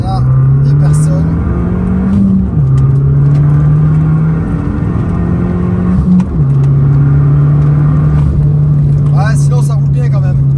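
An Abarth 595 Competizione with 180 hp pulls hard from inside the cabin, its engine droning loudly and steadily, briefly dipping at two gear changes before climbing again, with a voice speaking over it.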